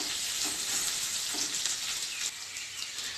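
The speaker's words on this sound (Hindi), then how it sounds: "इसको गोल्डन ब्राउन कर लें प्याज को।" Onions frying toward golden brown in a kadai give off a steady, dense sizzle that holds at an even level throughout, with no voices over it.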